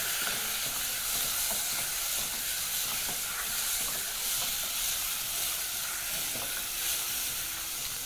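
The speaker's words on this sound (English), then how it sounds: "proceed to brown your beef" Beef pieces browning in a hot pan for beef biryani give a steady, even sizzle and hiss lasting throughout, with a few faint stirring scrapes and no talking.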